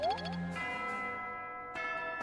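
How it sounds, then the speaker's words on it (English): Bells ring in Fire Emblem: Three Houses: a few clear metallic strikes with long, sustained ringing tones. The bells are close and fairly loud, and no one talks over them. "Bells."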